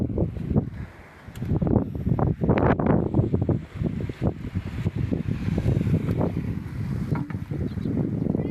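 A fishing boat's engine runs out at sea under monsoon wind, with a steady low drone and irregular thumps and gusts of buffeting. It is fairly loud and continuous.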